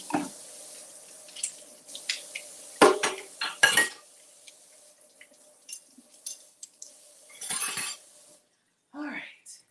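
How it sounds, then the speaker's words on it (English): A container is rinsed in a kitchen sink, with intermittent clattering of dishes and knocks against the basin, a few louder clunks, and bits of running water between quiet gaps. "So let me just rinse this out."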